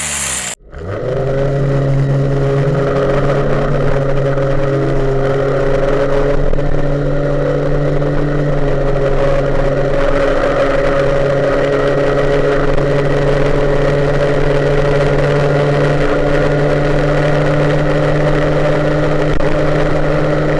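An MBK 51 moped engine fitted with an SHA air filter starts, then runs at a steady buzzing drone for about twenty seconds, close and fairly loud, with no talking.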